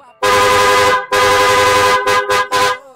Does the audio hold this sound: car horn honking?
yes